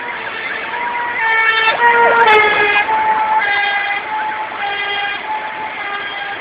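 A fire engine siren wails loudly and close, its rising and falling tones sweeping over street noise for several seconds, on a road where heavy rain has sent floodwater and trash rushing down.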